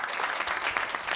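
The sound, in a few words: audience applause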